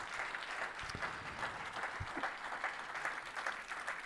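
Sustained applause from a conference audience after a talk by a Banque de France director, steady dense clapping at moderate level throughout, with no speech over it.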